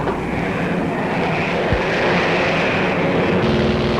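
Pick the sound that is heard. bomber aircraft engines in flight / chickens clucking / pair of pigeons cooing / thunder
bomber aircraft engines in flight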